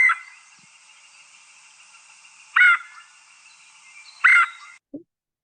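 Recorded calls of a woodpecker played back: a steady raspy tone broken by two louder harsh bursts, fairly close and clear, ending abruptly in silence.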